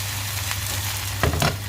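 Potato rosti frying in oil in a pan, a steady close sizzle throughout with a couple of brief louder crackling bursts near the end.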